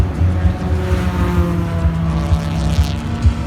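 Race cars, a Chevrolet and a Corsa, overtaking on the Tocancipá circuit, with a steady loud engine drone and repeated low bursts as they push past. No one speaks.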